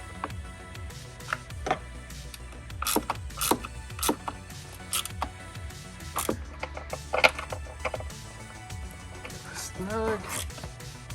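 Bolts on a Jeep Gladiator Mopar mesh top being snugged down with a ratchet, giving rapid clicking ratchet bursts and scattered mechanical clicks and knocks at close range, while someone talks throughout.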